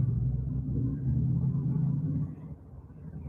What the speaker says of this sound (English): You can really hear the traffic out there.